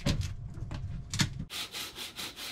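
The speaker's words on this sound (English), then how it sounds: "This is Beau on autopilot sanding" Wood being sanded by hand with steady back-and-forth rubbing strokes, close and fairly quiet, first slow and heavy, then a quicker, brighter rasping rhythm.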